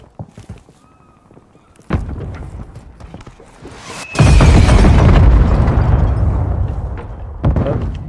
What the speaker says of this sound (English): I put the bunker buster on the roof.